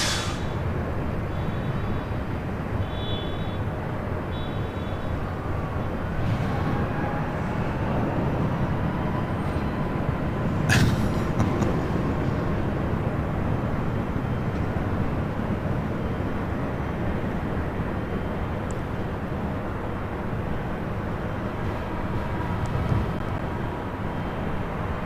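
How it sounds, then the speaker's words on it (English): A Southwest jet takes off from runway 24 left at LAX, a steady, heavy roar that holds for the full stretch with no voices over it. "runway 24 left, clear for takeoff"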